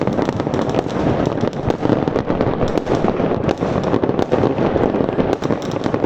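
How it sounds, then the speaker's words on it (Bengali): Dense, continuous barrage of New Year fireworks bursting and crackling on all sides, with rapid overlapping pops and booms holding steady and loud throughout. "ওই যে ওই একটা বাজি আলাদা, ওই যে উড়ে উড়ে যাইতেছে"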